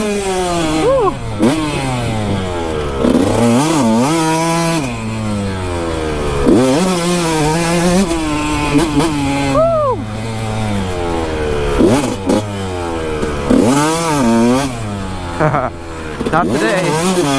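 A Kawasaki KX 125 two-stroke dirt bike revs and climbs through gears while trail riding. The engine note rises and falls continuously, loud and close, and a rider's voice occasionally cuts in over it.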